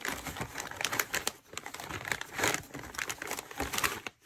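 A plastic parts bag from a 3Racing Sakura Advance S64 touring car kit crinkles and crackles close by in irregular bursts. The rustling rises and dips over a few seconds with a brief pause partway through.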